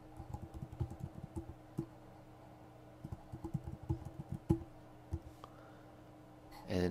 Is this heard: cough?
no